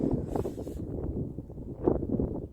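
Cold wind blowing across Doi Mae Tho mountain at sunrise, a steady low rush buffeting the microphone with a gust swelling near the end, alone with no voices.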